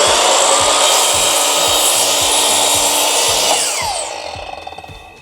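Bauer 10-inch dual bevel sliding miter saw cutting through aluminum stock, a loud, steady high-pitched whine with scraping for about four seconds, then the blade spinning down alone as it fades out.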